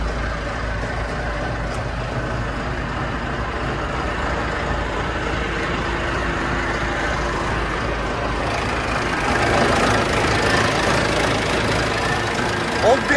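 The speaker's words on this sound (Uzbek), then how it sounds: "Oddiy apparat motor." A mini loader's engine idles in a steady, continuous mechanical rumble that holds close and even throughout, swelling slightly toward the end.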